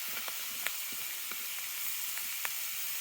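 Vegetables and onions sizzling in a pan over an open campfire, a faint steady frying hiss with a few soft pops and small scraping clicks, quiet and without talk.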